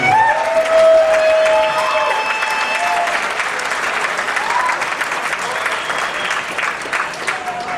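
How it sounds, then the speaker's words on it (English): Audience applause at a Canadian national arm wrestling awards ceremony, loud sustained clapping with a few cheers, and a voice speaks over it. "huge round of applause for a great national."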